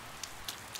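Rain falling in the video game Persona 4 Golden, a soft steady hiss with a few faint patters standing out, quiet and continuous with no talk.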